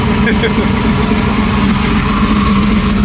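A car engine idles steadily after a new 4L60 transmission install, a loud, close, low rumbling drone with a constant hum throughout, a voice talking faintly over it.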